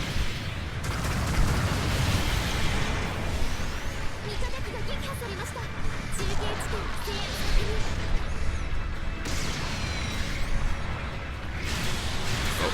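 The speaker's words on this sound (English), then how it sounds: "Wrist rockets." Wrist rockets fire and burst in a mech battle in Gundam Battle Operation 2, a dense, continuous rumble of blasts, whooshes and mechanical clatter running throughout, with intermittent bright crackling impacts.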